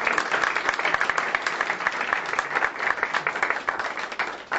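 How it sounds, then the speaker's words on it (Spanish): Audience applause after a lecture, a dense, steady patter of many hands clapping at moderate volume from across the room. "Yo quisiera pedirles un fuerte aplauso"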